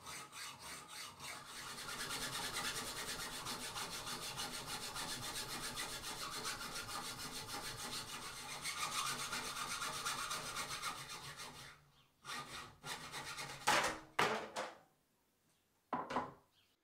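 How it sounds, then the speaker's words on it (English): A hand saw cutting through a thick steel bike fork steerer tube, a steady rasping back-and-forth stroke for about ten seconds, then a few slower, scattered strokes and scraping near the end, close and fairly quiet. "So let's begin sawing."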